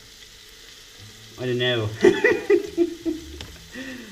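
Onions frying in a pan for chili con carne, a soft sizzle beneath a brief spoken remark and a short chuckle from a nearby voice.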